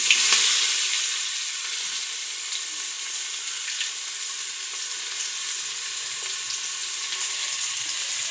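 Onions, curry leaves and green chillies fry in hot oil with mustard seeds and turmeric, giving a steady, dense sizzle that stays even throughout, close and fairly loud with faint crackles on top.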